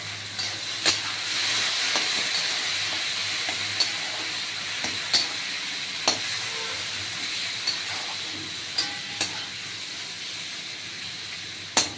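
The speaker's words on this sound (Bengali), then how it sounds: "এখন দেখছেন এই যে এটা কষানো হচ্ছে আঁচটা একটু ছোট করে দিলাম" A paste of ground spices, salt, turmeric, chilli, ginger, garlic and cumin fries in a pan over lowered heat with a steady sizzling hiss, while a utensil taps and scrapes now and then as it is stirred.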